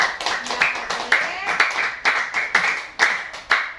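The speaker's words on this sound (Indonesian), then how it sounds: "Kasih tepuk tangan untuk Safira" A small group, likely a classroom, claps for a student after a lesson on plants, with distinct bursts of hand claps repeating roughly every half second, fairly close and moderately loud.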